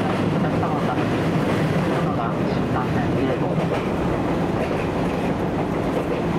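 A Series 185 electric train running as the Shinkansen Relay No. 3 from Ueno to Omiya, heard from onboard: a loud, steady rumble with rail clatter, with a voice talking over it.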